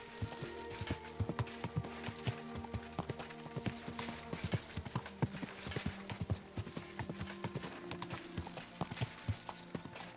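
Horse hooves clip-clop in a steady, continuous rhythm in Kingdom Come: Deliverance II, crisp close footfalls over a low ambient hum, with no speech.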